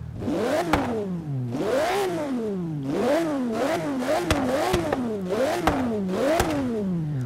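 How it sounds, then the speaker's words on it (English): Aston Martin One-77 with a naturally aspirated V12 in Forza Horizon 3 revs repeatedly, pitch sweeping up and down in a steady series of loud, close blips with gear-change clatter between them. "Still has that familiar sort of V12 Aston sound, obviously without twin turbos"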